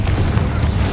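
A Confringo spell blast in the video game Hogwarts Legacy, heard as a dense, sustained low rumbling boom with a brief crackling burst partway through, loud and close for about a second.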